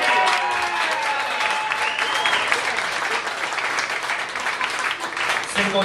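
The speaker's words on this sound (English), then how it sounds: "give them a round of applause" Applause from a crowd at a craft beer and eats restaurant's grand reopening in Metro Detroit, steady dense clapping sustained throughout with cheers and voices mixed in.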